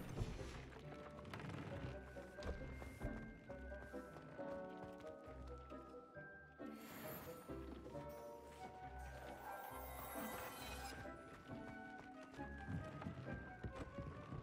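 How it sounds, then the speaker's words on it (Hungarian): Horse hooves clip-clop in the video game Hogwarts Legacy, a steady trotting beat heard among dense game music and ambient sounds, with no talk over it. "Az egy ló."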